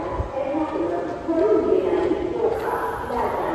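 A railway station crowd in Kokan murmurs, with overlapping voices and chatter close by and a steady background hubbub.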